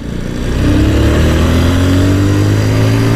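A 180cc motorcycle rides along behind a 500cc Himalayan bike, its engine swelling into a loud, steady, close drone with a rising pitch and continuous wind rush, with no talking.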